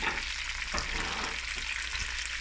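Butter sizzling in a hot pan for Haitian conch in sauce, a steady close hiss with a few soft stirring scrapes, alone.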